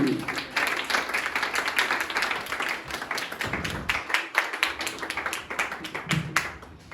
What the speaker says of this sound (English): Clapping should be continued for Manthan.